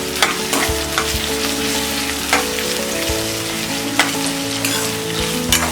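Onions frying in a pan over a medium flame give a steady close sizzle, with periodic scraping stirs and soft knocks of the utensil against the pan, and no speech.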